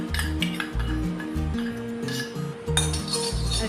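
A metal spoon clinks and taps against a kadai as ghee is spooned in for coconut modak, with a few light scrapes over steady background music.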